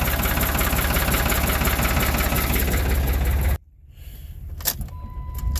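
Truck engine idling in a shop after a cold start, a loud steady rumble filling the first three and a half seconds before cutting to near quiet, then faint clicks and a soft whine.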